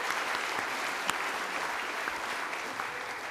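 Steady, dense applause from a leadership debate audience fills the whole stretch, a continuous wash of many hands at moderate volume with one sharper clap standing out.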